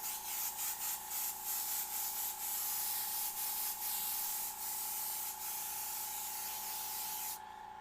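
An airbrush or spray gun hisses in short repeated bursts while pinkish-white paint is misted onto a Valentine's heart artwork, the spraying soft and close over a steady electrical hum.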